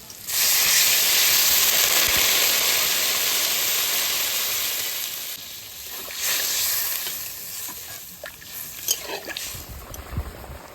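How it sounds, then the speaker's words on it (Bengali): Water poured onto sizzling fried masala for crab curry gives a loud burst of steamy hissing that slowly subsides, followed by softer bubbling and occasional stirring clatter, close up. "কষানো হয়ে গেছে এবার আমি জল দিয়ে দিই"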